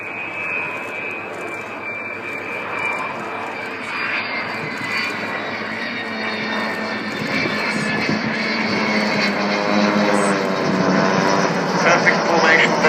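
Olympus jet engines of the Avro Vulcan XH558 bomber rumble in a broad, steady roar at the RAF Cosford Airshow, gradually growing louder as the aircraft approaches from a distance.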